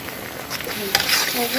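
Ground spices with turmeric, chilli and salt stir-fried in a pan for an egg curry, giving a steady close sizzle with soft scraping stirs that grow slightly louder toward the end.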